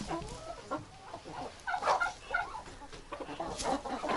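A hen clucks close by while laying an egg in a yard coop, a run of short, uneven clucks and squawks with brief pauses between them.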